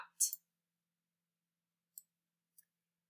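A few crisp computer mouse clicks while taking a snipping-tool screenshot: a quick double click at the start, then two isolated clicks later, close and quiet with silence between.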